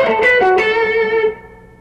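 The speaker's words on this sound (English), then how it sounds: "it involves a tremolo type picking pattern using the pick, really fast, rapid fire picking" Distorted electric guitar playing a short blues lick with rapid tremolo picking, a bright buzzing burst that rings out and fades within two seconds, played alone.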